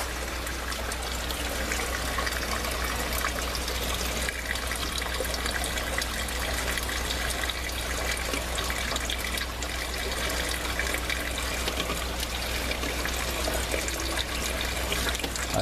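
Water flows steadily through an aquaponics grow tower, a continuous soft trickle and splash that stays even and fairly faint throughout, with no voices.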